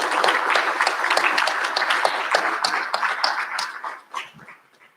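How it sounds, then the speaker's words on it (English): The 2021 graduating class of Old Westbury claps at a recognition ceremony. The applause is dense and sustained, then thins and fades out over the last second. "Please give yourselves a big round of applause."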